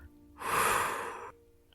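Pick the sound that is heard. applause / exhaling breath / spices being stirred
exhaling breath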